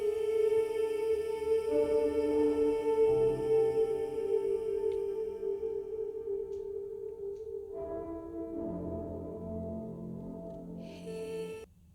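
Sung vocals drenched in a lush, large reverb sit over sustained tones and soft piano, the voice swelling and fading with long tails trailing after each phrase, moderately quiet and continuous.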